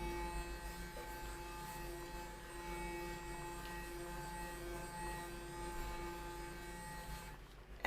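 A Clarisonic Mia 2 facial cleansing brush hums steadily and close, a constant electric drone with a faint higher whine, running alone until it cuts off near the end.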